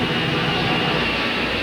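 A passenger airplane in a flight test, fitted with special equipment on its wingtip, gives off a loud, steady, broadband engine roar that stays constant throughout with no pauses.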